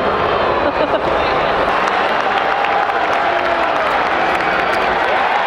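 A large baseball crowd at a New York Mets game at Citi Field roars in a sustained, dense wash of booing and jeering that fills the stadium, with nearby people talking underneath.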